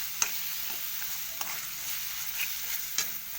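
Ginger-garlic paste being stirred into a coriander pickle in a pan, with a soft steady sizzle and a few faint spoon scrapes and taps against the metal, close and quiet, no voices.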